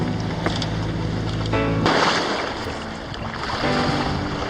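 A sailboat moving through open ocean swells, with steady broadband wash of water and wind against the hull, loud and close throughout, with a brief tonal hum fading partway before a surge of rushing spray.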